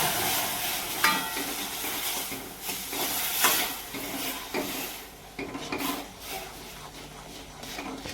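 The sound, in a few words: stirring roasted semolina into boiling water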